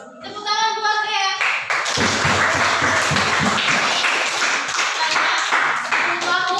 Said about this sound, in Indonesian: Tepuk tangan buat ya